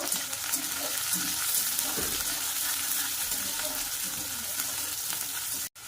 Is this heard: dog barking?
no